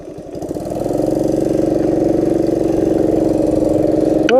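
A Honda PC50 moped engine idles steadily after carburettor tuning, a close, even putter with a rapid regular pulse that settles and holds a constant level, with a brief higher blip right at the end.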